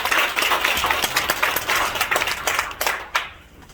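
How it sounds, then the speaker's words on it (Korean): A church congregation claps together in thanks to God, a dense, loud wash of hand claps that holds steady for several seconds, then thins and fades toward the end. "우리 먼저 하나님께 감사 박수 한번 올리고요"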